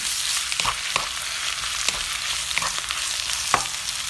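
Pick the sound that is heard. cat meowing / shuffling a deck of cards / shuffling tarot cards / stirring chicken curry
stirring chicken curry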